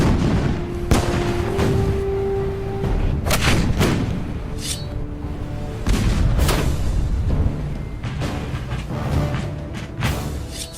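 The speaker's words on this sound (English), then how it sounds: "ships in the harbor try to pin down the militia with cannon fire" Ships in a harbor fire cannons during a Revolutionary War battle, sending out loud, irregular booms one after another. The heavy blasts overlap in a dense, rumbling barrage, with no talk.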